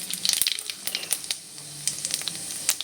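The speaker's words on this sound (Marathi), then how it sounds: "आपण आता मोहरीची फोडणी देणार आहोत मोहरी छान फुटू द्यायची आहे" Mustard seeds spluttering in hot oil in a wok, tempering for a cabbage and capsicum dry sabzi: a steady sizzling hiss with quick bursts of crackling pops, loudest at the start and then again in scattered spurts.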